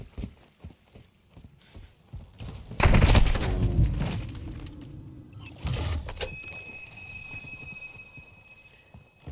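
Gunfire in the video game Modern Warfare II bursts out loud for a few seconds, then fades into quieter clatter and scattered pops, with faint background game sounds and no speech.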